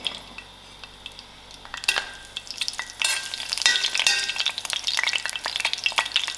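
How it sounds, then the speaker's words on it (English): Mustard seeds and green chilies fry in hot oil for black urad dhal, a steady sizzle that jumps louder partway through, with crackling pops and light stirring scrapes against the pan. "And then I put in my mustard seed together with my green chilies."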